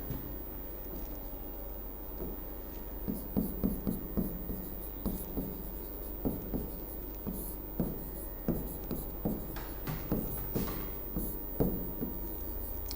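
Pen or chalk writing strokes during a Hindi lesson, a series of short scratchy marks in quick bursts, fairly close and moderately loud, with no talking over them.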